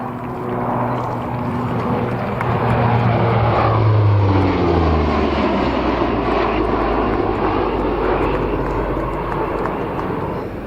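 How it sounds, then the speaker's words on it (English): German Navy Lockheed P-3C Orion turboprop making its final pass and climb-out at an airshow, a loud, close engine roar with a falling pitch as the aircraft passes and pulls away. "So final pass and a spirited climb out from the German Navy Lockheed P3C"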